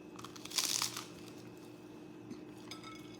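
A short burst of crisp crunching around the first second, close to the mic, then quiet room tone with a faint click or two.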